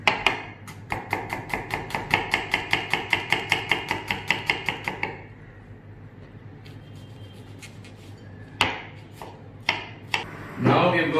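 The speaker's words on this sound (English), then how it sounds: "Now we've got the onion that is chopped here finely." A knife chops an onion finely on a board in a quick, steady run of about fifteen close, crisp knocks, then a few isolated taps and scraping follow after a pause.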